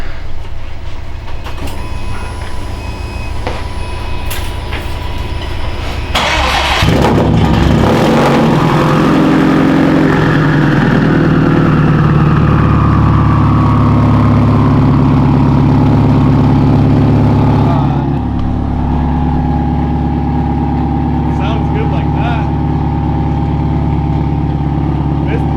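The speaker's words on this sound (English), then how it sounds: "you can hear it rumbling. It straight up sounds like an exhaust leak though." A loud STI with a modified mid pipe rumbles heavily after a sudden start partway through. The deep, throbbing exhaust drone sounds like an exhaust leak and holds steady, with people talking over it.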